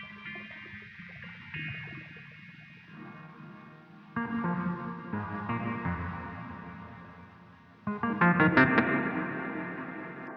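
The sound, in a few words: guitar pedal lo-fi inverse mode effect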